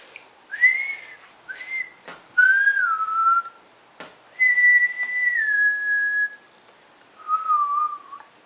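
A person whistles a few short notes, then longer sliding tones with pauses between, clear and close.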